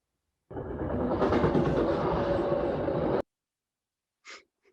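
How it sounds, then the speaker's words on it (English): A train rumbles past nearby, a loud broadband roar that starts abruptly, holds steady for about three seconds and cuts off sharply, followed by a brief faint noise. "That's Nick's train. Comes by every once in a while"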